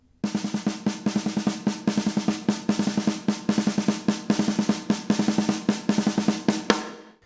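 Drum exercise played with the hands, switching each beat between 16th notes and 8th notes: an even, fast stream of crisp strikes in a regular pattern, close and clear, with no talking.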